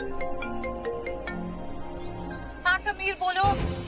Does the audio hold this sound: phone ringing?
yes